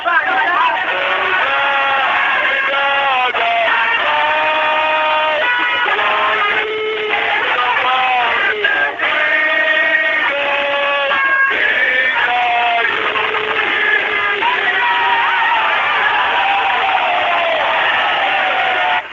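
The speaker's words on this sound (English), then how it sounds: "there's a large crowd here, and I was being escorted out to detention by singing the national anthem" A large crowd in Nigeria sings the national anthem while someone is led away by police, the massed voices loud, sustained and continuous throughout.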